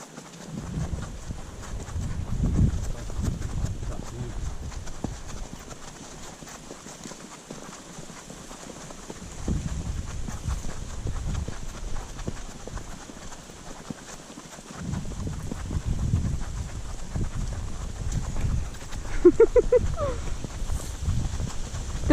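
Horse hooves clip-clop at a steady walking rhythm during a trail ride at Complexo Capiba, the beat close and moderately loud, rising and falling in short stretches with a brief bird-like chirp near the end.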